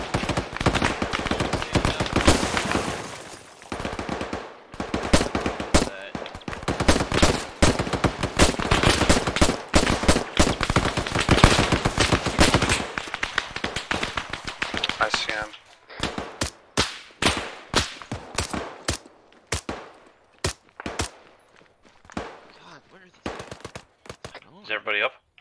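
Heavy ArmA 3 firefight, with dense bursts of rifle and machine gun fire rattling almost continuously for about fifteen seconds, then thinning into scattered single shots and short bursts, while voices talk over it.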